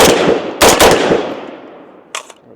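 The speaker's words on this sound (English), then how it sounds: "So let's go ahead and shoot these rounds." Several rapid rifle shots from a PSA Jakl crack out in a tight burst near the start, followed by a pause and two more sharp reports, each trailing off into a fading echo.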